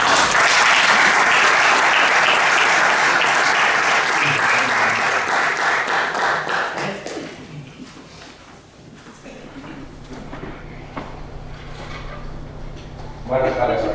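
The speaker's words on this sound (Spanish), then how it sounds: "Un gran aplauso." A conference audience gives loud, sustained applause welcoming speakers, a thick wash of clapping that tapers off after about seven seconds into quiet room noise and shuffling, with a brief rustle near the end.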